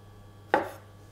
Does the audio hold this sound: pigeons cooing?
no